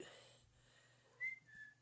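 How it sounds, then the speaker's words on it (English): A woman whistles to call a pet cat indoors, giving two short, clear high-pitched whistles near the end after a quiet stretch, close to the listener. "He comes as soon as she whistles."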